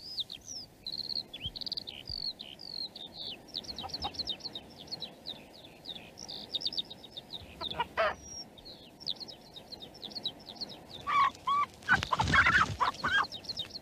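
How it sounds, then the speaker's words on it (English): A chicken clucks and chirps repeatedly in quick bursts, with other bird calls around it and a louder flurry of squawks near the end. "a cheeky hen stealing his keys"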